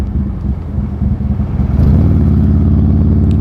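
A Buell Lightning XB12S motorcycle's big V-twin engine chugs with an offbeat, lumpy firing rhythm, swelling louder as the revs climb partway through and holding a steady, throaty roar up close.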